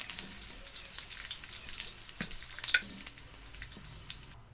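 Santol frying in a pan for ginataang santol, a soft continuous sizzle with occasional pops and light stirring scrapes, close and fairly quiet with no talk.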